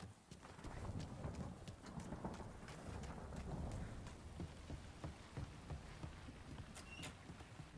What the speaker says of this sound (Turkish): O yağmurlu bir hava.